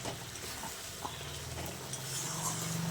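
Ginger, garlic and onion paste fries with chicken in a home kitchen pan, giving a quiet, steady sizzle with soft scraping stirs and no voices.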